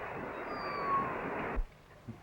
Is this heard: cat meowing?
yes